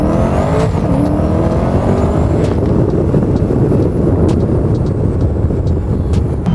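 A supercharged Corvette C8 wide body roars loudly and steadily as it accelerates, engine pitch climbing through gear shifts, with supercharger whine over heavy continuous engine noise from inside the car.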